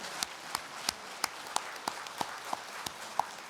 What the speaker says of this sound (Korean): 이 두 분에게는 우리는 응원과 지지의 박수를